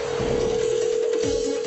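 A telephone being dialed to place a call, heard as a steady electronic tone with faint dialing beeps, continuous and fairly loud, with no talking.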